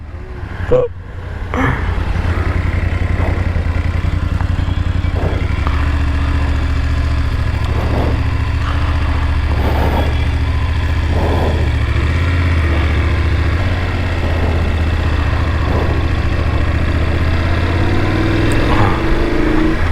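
A BMW F850GSA adventure motorcycle idling near Kotagiri, a steady, close, low throb that holds for nearly twenty seconds after a brief rustle at the start, with faint voices now and then.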